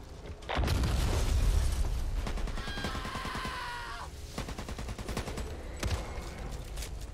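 A flashbang grenade goes off in the zombie shooter Back 4 Blood, a loud broadband blast that swells into sustained crackling and gunfire-like bursts, with a brief tonal ring before trailing off into continued combat noise.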